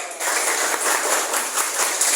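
A class of students applauds during an ice-breaking activity, a steady, dense wash of hand clapping that fills the whole stretch at even loudness with no talk over it.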